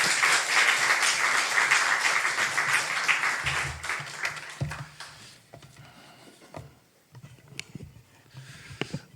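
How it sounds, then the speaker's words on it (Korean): A church congregation gives warm, steady applause that is fairly loud at first, then tapers off over several seconds into scattered claps and quiet room noise. "여러분 따뜻한 박수로 맞아주시기 바랍니다."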